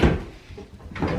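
A soft-close kitchen drawer sliding shut, a muffled rumbling glide easing to a gentle stop with a faint thud, close by and with no talking.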